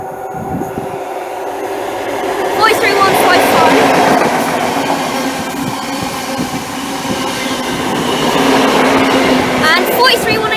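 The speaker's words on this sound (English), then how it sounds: "Approaching now is a random HST" An HST diesel train approaches Dockyard station, a loud, steady rail roar and rumble building and holding near, with wheel clatter, under some talk.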